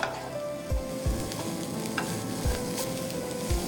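Spiced breakfast mixture frying in a pan while being stirred, a steady sizzle broken by repeated low thumps and scrapes of the spoon, no speech.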